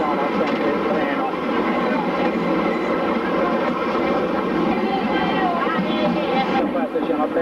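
The Trenino Verde tourist train in Sardinia runs with a steady, loud rumble and rattle from the carriages throughout, while people talk over it.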